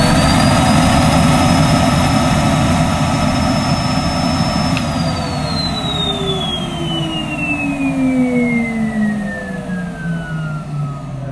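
A Numatic Henry 160 vacuum cleaner with a fairly full bag runs loud and close, its steady roar topped by a high motor whine that slowly drops in pitch as the suction changes.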